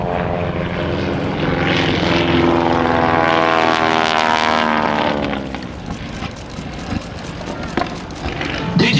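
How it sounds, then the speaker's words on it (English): A propeller aerobatic plane's engine drones loudly during a super slow roll, its pitch sliding as it turns, then the engine coughs and sputters unevenly as it rolls inverted, at an airshow. "Listen to the sound of the engine when he gets it upside down."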